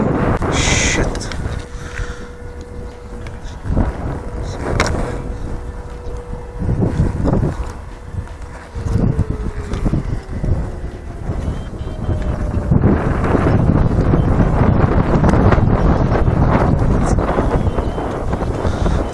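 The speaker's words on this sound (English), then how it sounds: "Too much wind for my taste." Wind buffets the microphone outdoors while a Parrot Bebop drone flies, making a continuous rough rumble that rises and falls in gusts and grows stronger toward the end.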